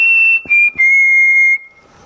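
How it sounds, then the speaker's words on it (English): A person whistles a clear, close, sustained tone into a microphone, broken by two short gaps, with the pitch sliding slightly downward before fading out. "if I whistle into my computer"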